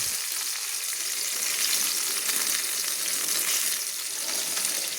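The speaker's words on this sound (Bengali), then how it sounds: "একটা একটা বড়া আমি এই তেঁতুল জলে কিন্তু আমি ছেড়ে দিচ্ছি" Prawn head fritters slipped one by one into simmering tamarind water in a pan over a medium gas flame, giving a steady, close hissing sizzle with faint stirring, no talking.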